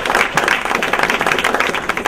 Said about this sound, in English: McRae, give her a round of applause.